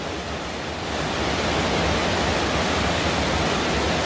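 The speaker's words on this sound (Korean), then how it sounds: "동굴 속에 시끄러울 정도로, 안 들릴 정도로 물이 많이 내리고 있어요." Cave waterfall roaring inside Hwanseon Cave in Korea, a heavy flood of water pouring down in a dense, continuous broadband rush that swells slightly after the first second and stays loud throughout, no voices.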